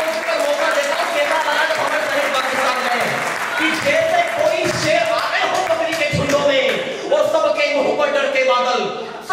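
Audience at a Hindi poetry gathering (kavi sammelan) clapping in loud bursts, mixed with crowd noise and a voice speaking over the applause.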